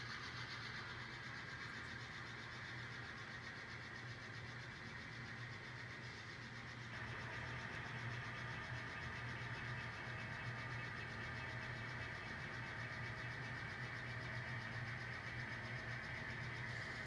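Sound decoder in an N scale GP15 non-turbo model diesel locomotive, a throaty engine rumble idling steadily and then rising slightly in level partway through, quiet and continuous with no speech.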